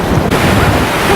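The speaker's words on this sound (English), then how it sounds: "There's Lucas out there in the ocean with his dad, Scott." Ocean surf washing steadily onto the shore at Wildwood Crest beach, a broad continuous roar with wind buffeting the microphone, no voices.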